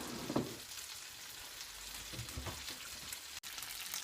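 Bacon and mushroom risotto base sizzling in a pan, a faint, soft crackle with occasional stirring scrapes and a brief knock.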